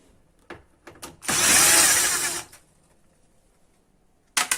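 A cordless screwdriver whirs in one loud burst of about a second while backing out screws on the cover of a Bosch 2300i combi boiler, with light clicks and handling knocks before and after.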